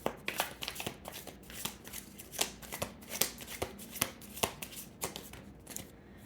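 A deck of tarot cards is shuffled by hand in quick repeated riffles and slaps, a close, dry, rhythmic flutter of card edges with no talking.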